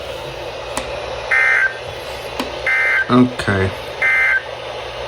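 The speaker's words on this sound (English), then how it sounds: "This ends the test of the National Weather Service weather radio warning alarm." Weather radio alarm test tones from a National Weather Service broadcast: three loud steady beeps of about half a second each, repeated at even intervals, with a short spoken word heard between them.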